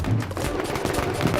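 Firecrackers bursting during a political party celebration in Hingoli, a dense rapid string of cracks and pops running continuously.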